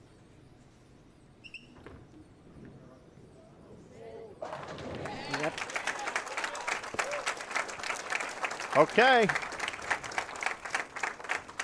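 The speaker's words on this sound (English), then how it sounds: "You hear the crowd react." Bowling crowd at the 2021 Junior Gold under-20 girls stepladder final reacting as the championship is clinched, a quiet lane ambience swelling into loud cheering and sustained applause with a shrill whistle-like cry; a brief spoken word occurs early.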